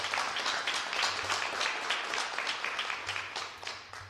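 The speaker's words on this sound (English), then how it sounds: "So let's give her a round of applause." Audience applause in a legislative hall during a Black Caucus education bill signing, a dense, steady wash of many hands clapping that carries through the whole stretch without talk.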